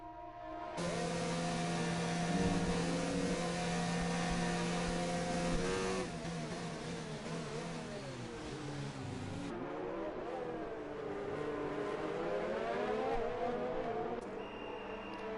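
Formula 1 car engines from the F1 2019 racing game wail at high pitch under acceleration, a steady loud drone with a shift and rising tone, no voices.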